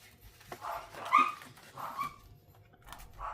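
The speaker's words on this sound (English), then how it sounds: "Do you hear my youngest dog? Just, not the barking, but the yipping and the carrying on." Dogs indoors at home bark and yip in short bursts, one young dog giving excited high yelps and whining cries, moderately distant and fairly quiet, with gaps between calls.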